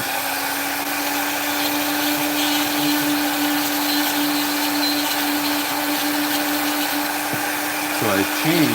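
A rotary tool fitted with a fine flame burr carves wood in a constant high motor whine that stays steady throughout, near and fairly loud, shifting slightly in pitch at the end.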